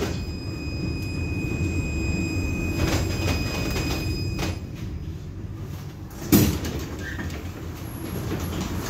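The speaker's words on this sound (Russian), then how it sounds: "Осторожно, двери закрываются." Doors of a 71-623-02 tram slide shut with a single sharp thump after a steady rolling hum and faint interior rumble, no voices heard.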